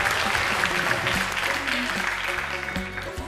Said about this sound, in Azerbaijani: Keçən dəfəki veriliş üçün alqışlayın.